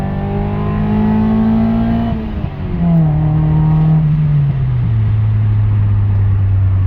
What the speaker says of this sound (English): Oh yeah, it's working.